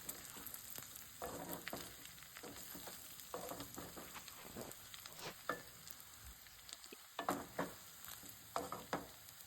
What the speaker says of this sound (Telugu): కారం ముక్కలకి బాగా పట్టేలాగా మొత్తం కలుపుకుందాం.